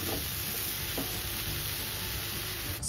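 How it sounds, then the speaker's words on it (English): Dry spices, herbs and salt stirred into broccoli and mixed vegetables in a hot pan, a steady close hiss of sizzling with a faint scrape or two of the spoon, continuous and even throughout. "Add dry spices and dry herbs and salt to taste and stir them for another 1 minute"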